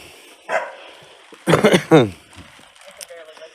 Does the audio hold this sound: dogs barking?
yes